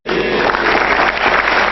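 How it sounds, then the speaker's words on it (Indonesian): An audience at a stand-up comedy show breaks into a short burst of dense, steady applause that starts abruptly and holds at full strength. "Nggak perlu tepuk tangan"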